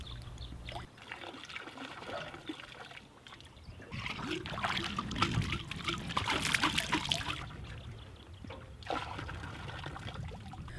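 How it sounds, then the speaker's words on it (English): A sample bottle screwed onto a pole is rinsed in river water near a landfill, giving a steady sloshing, trickling wash that swells in the middle and eases off, close and moderately loud. "screw the bottle onto a pole and rinse the bottle at least 3 times"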